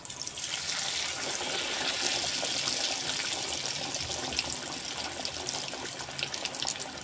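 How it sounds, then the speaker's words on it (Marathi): Vegetable patties frying in hot oil for cheese burgers, a dense, steady close hiss and bubbling sizzle that holds evenly without a break, with no voices. "तर आपण आता पॅटीस तळायला घेऊया."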